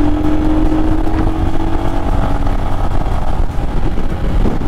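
A motorcycle carrying a rider and pillion passenger pulls away on a road trip in Uttarakhand, its engine a loud, steady rumble with rushing wind noise and no speech.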